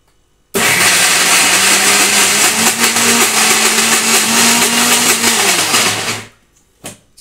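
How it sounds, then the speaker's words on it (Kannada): A kitchen mixer grinder whirs loudly, grinding cooked toor dal and jaggery into a smooth paste, a steady high-pitched motor roar running for several seconds before stopping abruptly, followed by brief faint clatters. "ಈಗ ಇದನ್ನು ನಾವು ಮಿಕ್ಸಿನಲ್ಲಿ ರುಬ್ಕೊಳ್ಳೋಣ"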